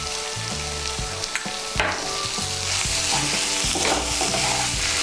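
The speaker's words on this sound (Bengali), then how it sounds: "নুনটাকে ভালো করে মিশিয়ে নিচ্ছি।" Masala soybean chunks frying with salt being stirred in, a steady loud sizzle with scraping spatula strokes against the pan throughout, no voices.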